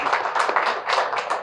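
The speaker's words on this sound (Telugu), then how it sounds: "ఇక్కడ కొంచెం క్లాప్స్ కొట్టాలి." An audience at a music world tour press meet claps in a brief, dense burst of applause that swells and dips in waves.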